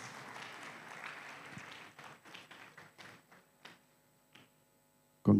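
Audience applause at a university campus award ceremony, a steady patter of many hands that thins into scattered claps and taps before dying out, ending with a loud thump.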